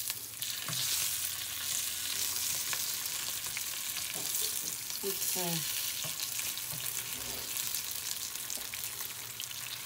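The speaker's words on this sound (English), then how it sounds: "I'm going to keep on frying, you guys" Steady oil sizzling and crackling from tortillas frying fills the whole stretch, with a few light utensil clinks and a brief spoken word.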